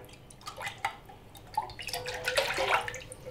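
Water is swirled and poured out of an empty coconut milk can to rinse it for a jengkol rendang, giving short close splashes and drips that build into a sloshing pour.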